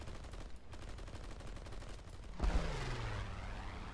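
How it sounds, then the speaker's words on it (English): Rapid aircraft gunfire from a plane in War Thunder, a fast rattling burst of shots over steady engine drone, swelling louder near the end with no talking. "Oh, I didn't have my freaking cannon selected"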